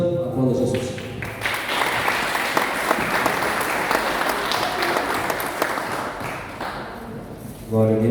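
A church congregation at a communion service breaks into loud, sustained applause lasting several seconds, a thick, continuous wash of many hands, with a voice heard briefly at the start and end.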